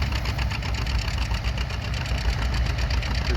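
A Ford tractor engine runs steadily while plowing fields in the Palouse, a continuous mid-pitched chugging drone with a rapid knocking pulse, fairly close and unbroken.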